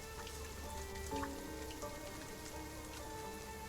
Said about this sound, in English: her eyes focus on the rain and the sound of it as it falls around her